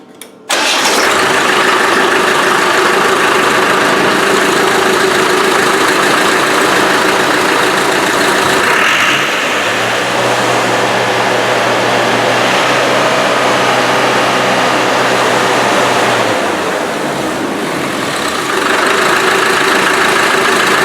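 Turbo diesel engine with a dead turbo making no boost, starting with a sharp crank and then idling loudly and steadily for about twenty seconds, with a deeper drone rising midway before settling back to a plain idle.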